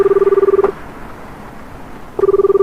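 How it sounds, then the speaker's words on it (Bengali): Telephone dialing tones in a suspense audio drama, a steady beeping tone pattern that plays, cuts off, falls quiet for over a second and then resumes, clear and alone. "এবার পকেট থেকে ফোনটা বের করে কল করে অপর্ণা"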